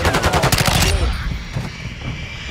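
A rapid burst of automatic gunfire in Call of Duty: Modern Warfare II, Al Bagra Fortress map, rattles off about a dozen quick shots, then stops abruptly, leaving a fading echo and low rumble.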